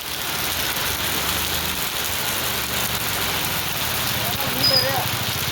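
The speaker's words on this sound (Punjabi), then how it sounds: "ਮੀਂਹ ਬਹੁਤ ਪੈ ਰਿਹਾ ਜੀ ਬਹੁਤ ਜ਼ਿਆਦਾ ਮੀਂਹ ਪੈ ਰਿਹਾ" Steady hiss of heavy rain falling on surfaces in a Punjabi village, continuous and moderately loud, with a faint low engine-like rumble underneath.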